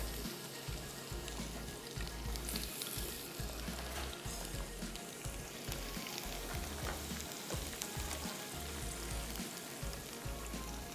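Chicken pieces frying in hot oil for a crisp finish, a dense, even crackling sizzle with small pops that runs the whole time, with no voices.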